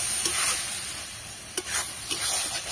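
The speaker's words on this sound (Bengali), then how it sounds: "আর শুধু নেড়ে যেতে হবে, যাতে না ধরে যায়।" Cabbage mash frying in a pan over low heat gives a soft, steady sizzle, broken by a few scraping strokes as it is stirred, with no voices.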